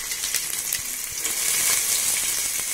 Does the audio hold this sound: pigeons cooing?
no